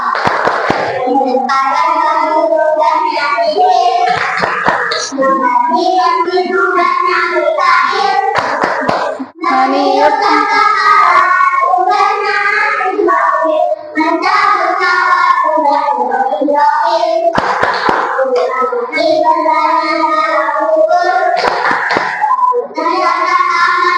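Children and a teacher in a classroom play a tepuk clapping game. Rhythmic hand claps punctuate a continuous sung chant that runs throughout at close range.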